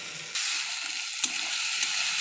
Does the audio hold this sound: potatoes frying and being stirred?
yes